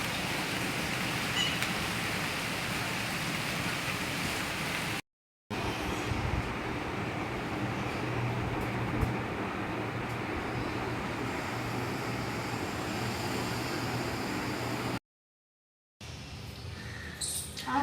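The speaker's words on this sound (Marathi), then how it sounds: "वा मस्त रिमझिम पाऊस पडत आहे आज" Light drizzling rain falls steadily as a soft, even hiss across the whole stretch, broken by two brief dropouts, with no voices over it.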